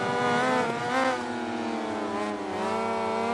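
Racing motorcycle, a Honda in the MotoGP 20 video game, screams at high revs throughout, its engine pitch dipping and climbing through gear changes and throttle shifts, loud and continuous with no talk.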